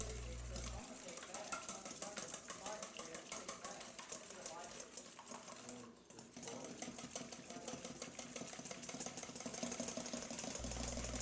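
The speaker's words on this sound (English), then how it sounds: "we'll start to whisk it to incorporate the acid into the whites and form a froth." Egg whites mixed with tartaric acid are whisked into a froth, giving a fast, steady rattling churn that runs for about eleven seconds, briefly easing near the middle before picking back up.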